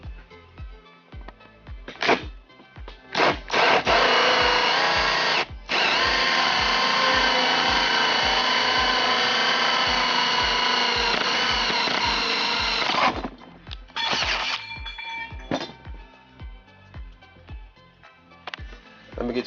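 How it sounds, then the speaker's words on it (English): A power drill revs in short bursts, then runs loud and steady for several seconds while boring a one-inch hole in a car door panel, before stopping with a few more brief whirs. "let me drill the hole and you'll get a better idea"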